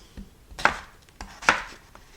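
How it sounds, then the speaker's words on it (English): Knife chops through scrubbed potatoes on a cutting board, with two sharp, close cuts and fainter taps in between, no talking. "I just scrub them off really good before I cut them."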